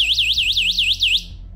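A cheap add-on anti-theft alarm on an electric scooter gives a short warning, a loud, shrill siren that sweeps rapidly up and down about eight times, then cuts off and leaves a low hum.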